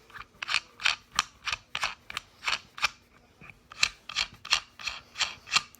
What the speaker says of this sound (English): Screw these bad boys all the way in.